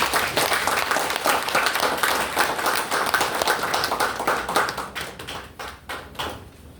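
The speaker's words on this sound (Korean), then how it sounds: "큰 박수 부탁드리겠습니다" A Korean lecture audience breaks into loud, sustained applause, a dense clatter of many hands that thins into scattered, separate claps toward the end.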